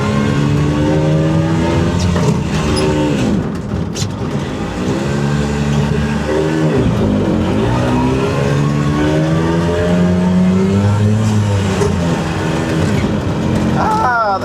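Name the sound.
old Italian micro van engine running while shifting gears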